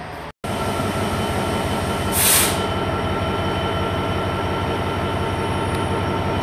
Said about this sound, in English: Here's a Freightliner Class 66. It's 66414.